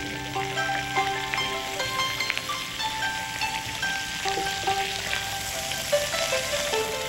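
Shrimp and bok choy sautéing in garlic, a dense, even frying sizzle with light crackles and faint stirring, steady throughout at moderate loudness.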